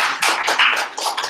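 Brief, scattered claps and taps from students in a classroom, a few quick bursts at moderate volume with no talk over them.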